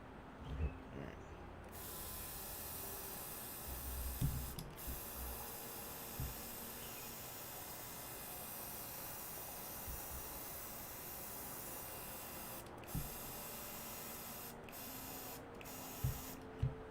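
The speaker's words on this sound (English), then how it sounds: "not dry brushing, but airbrushing" An airbrush sprays paint onto tabletop terrain as a steady, faint hiss that runs almost unbroken, with a few brief dropouts and small clicks. No one speaks.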